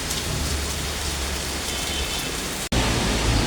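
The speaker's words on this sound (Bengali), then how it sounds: "দেখো কত জোরে বৃষ্টি, দেখো।" Heavy rain pours down in a loud, steady broadband roar, close and continuous, briefly cutting out for an instant before resuming just as strong.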